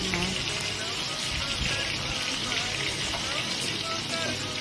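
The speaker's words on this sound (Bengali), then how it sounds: "মশমশা করে ভেজে নিয়ে আমাদের মাছ ভাজা প্রায় শেষ" Fish frying crisp in a pan over a low flame, a loud continuous sizzle and crackle of hot oil close by, with no one talking.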